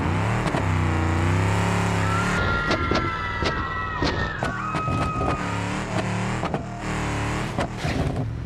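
A simulated G63 in BeamNG.drive revs and accelerates loudly, its engine pitch climbing and falling in repeated surges, broken by sharp crash-like thumps and brief tyre squeals.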